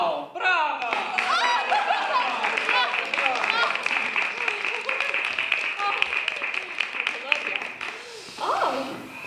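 Theatre audience applause in a Chekhov-era playhouse: dense, steady clapping with scattered chuckles and laughter running throughout, while voices speak over it near the end.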